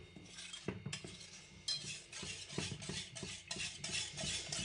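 Mango is whisked by hand into milk custard in a bowl for kulfi, giving close, rhythmic scraping and clinking strokes that continue steadily, with no talking.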